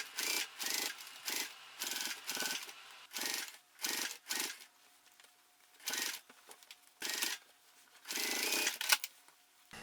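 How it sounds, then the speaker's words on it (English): A sewing machine top-stitches the binding on a backpack in a series of short, close bursts of stitching, each lasting under a second, separated by brief pauses. "Now I'm top stitching the binding."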